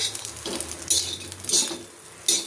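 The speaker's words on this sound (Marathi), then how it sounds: "बोंबील असे छान 4 ते 5 मिनटं परतवून घ्यायचे." Dried Bombay duck fish being roasted and turned on a hot griddle, giving soft sizzling with a few scraping stirs of a spatula against the metal, close and alone without talk.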